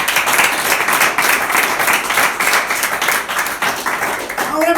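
A church congregation applauding, steady dense clapping close by that carries on throughout without a break.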